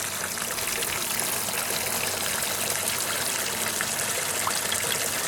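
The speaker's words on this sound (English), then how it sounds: "I'm going to run it through the sluice and collect up the fines." Water washing gold ore through a sluice to gather the fines and concentrates, a steady loud rushing pour that runs without a break from start to finish.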